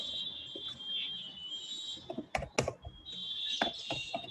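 Computer keyboard typing during a coding session, with bursts of key clicks clustered mid-clip over a steady high background hum, fairly faint and close, no talking.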